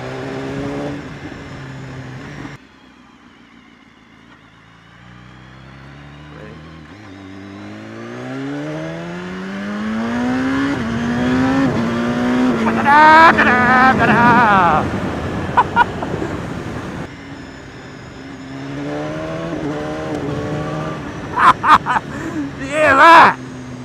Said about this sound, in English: The best bit on this bike by far is that blooming quick shifter system.